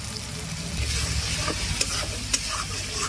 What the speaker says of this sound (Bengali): ভালো করে মশলাগুলো কষিয়ে নিচ্ছি